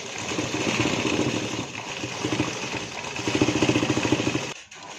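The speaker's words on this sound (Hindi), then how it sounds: "आधा इंच की पूरी राउंड में सिलाई" A sewing machine running continuously up close, stitching a blouse sleeve with a steady rapid mechanical chatter that stops abruptly near the end.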